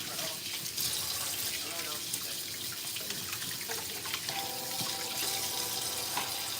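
A kitchen tap runs while hands are washed under it, a steady, fairly quiet splashing stream with small spattering changes and a faint voice in the background.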